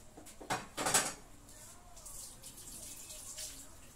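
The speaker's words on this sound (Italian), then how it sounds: "Metto un goccino di acqua, ovviamente, se no si bruciano." Water splashed from a container into a baking pan holding fish, a couple of short close pours and splashes followed by faint kitchen clatter.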